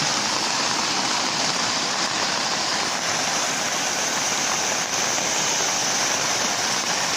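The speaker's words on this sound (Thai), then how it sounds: "บรรยากาศตอนนี้กับฝนตกนักเลยเนาะ" Heavy rain pours down with rushing floodwater during a flood in Laos, a steady, loud and dense roar of water that fills the whole clip without break or speech.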